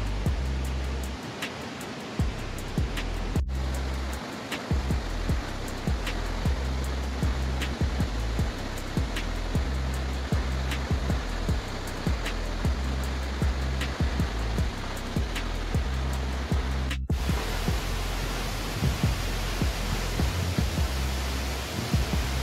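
Rainbow Waterfall in Meghalaya rushes continuously as a dense, steady roar of falling water that fills the whole span, loud and unchanging with no voices.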